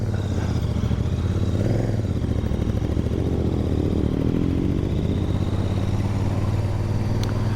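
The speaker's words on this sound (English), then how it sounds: "Yeah, still loving the sound of these exhausts." Royal Enfield Shotgun and Super Meteor motorcycles riding together, a steady deep exhaust burble and engine drone with wind noise, constant and close throughout with no talking.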